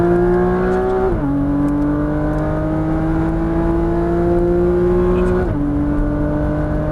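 Porsche Cayman GTS on a race track pulling hard out of a chicane, its engine a loud close drone that climbs steadily in pitch, with two brief dips as gears shift.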